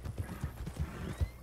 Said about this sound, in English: Hey, my horse, Kennedy.